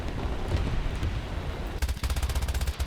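Rapid, evenly pulsed machine gun fire from a KI-27 otsu fighter in a flight combat game, firing a close, loud burst over a steady engine drone with no speech.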